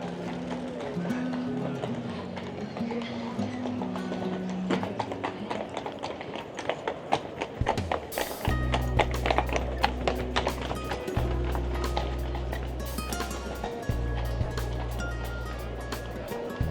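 Carriage horses in Kraków clip-clop along the street, a steady run of hoof strikes on pavement with crowd noise and voices, the hooves growing louder and closer partway through.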